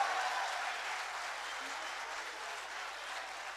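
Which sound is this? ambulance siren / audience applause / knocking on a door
audience applause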